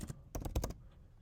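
A short flurry of computer keyboard keystrokes, close and crisp, clustered in quick taps before falling quiet.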